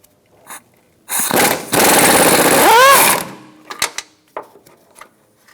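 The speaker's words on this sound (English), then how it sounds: "we're going to take out this nut using an 18mm socket and a swivel." An impact wrench with an 18mm socket and swivel hammers a nut off a 2005-2010 Chrysler 300 near the coolant reservoir and wheel well. A loud, close, two-second rattling burst winds down in pitch, followed by a few clinks.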